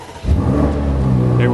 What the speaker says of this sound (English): when you go into Sport Plus, one important thing, the exhaust opens